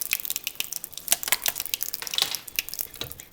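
Water and oil poured into flour for an oil pie crust make a soft, continuous liquid splashing and pattering close by, with small drips and clicks throughout.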